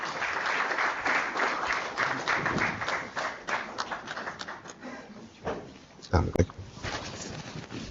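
A crowd claps at a postgraduate research workshop, steady applause for several seconds that thins and fades out, followed by a few thumps and a faint voice.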